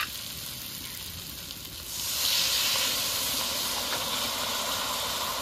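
Water is poured into a pan of spice-fried taro stolons, and a steady hiss swells into a louder, sustained sizzle after about two seconds, close and continuous with no talking.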